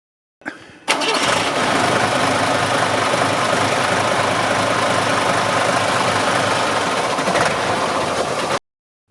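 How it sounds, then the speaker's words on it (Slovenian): An air-cooled five-cylinder diesel engine of a TAM 100T8 truck idles steadily and fairly loud after a short start, with a rough, clattering mid-range rumble and no talking. "Vrstni zračno hlajen torpedov dizelski motor ima 5 valjev in zmore"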